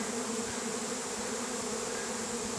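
A honey bee swarm buzzes densely around a hive at an apiary in July, a continuous steady drone with no voices.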